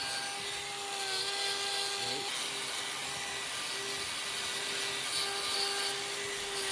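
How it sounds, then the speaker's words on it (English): Power grinder trimming overgrown hoof horn from the outer claw of a cow's back foot, a steady high whine with tonal harmonics running continuously, close and fairly loud, with a brief pitch dip partway through. "I felt I could remove a little more hoof horn from this outer claw and balance up the inner one a little better, so that's exactly what I did with the grinder"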